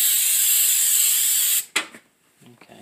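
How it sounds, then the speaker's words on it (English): Aerosol pure coconut oil sprayed onto bread pans while whole wheat bread is made at home, a loud steady hiss lasting about a second and a half, followed by a short burst and faint voices. "aerosol pure coconut oil."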